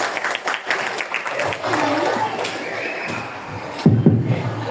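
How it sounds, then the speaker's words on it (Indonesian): Audience applause after a class 8B performance at a school Balinese language month competition, a steady broadband patter of many hands with crowd murmur, rising again briefly near the end. "Berikan tepuk tangan sekali lagi."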